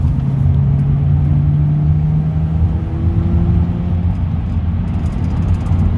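Exhaust of a V6 Nissan Altima with its catalytic converter removed, a steady low rumbling drone at a constant idle or cruise, close and loud, with no voices.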